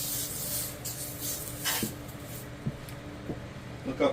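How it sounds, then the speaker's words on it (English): Metal scraper scrubbing across a flat top grill's steel cooking surface, a steady broadband rasping with a few sharper scrapes and knocks, close and moderately loud. "we're scrubbing hard in the areas where the burgers were, covering the whole grill"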